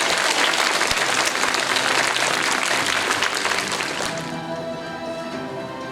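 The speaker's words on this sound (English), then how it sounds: "Can we give them another big round of applause?" An audience at a primary school prose reading competition claps for the young readers, a loud sustained round of applause that thins and fades toward the end.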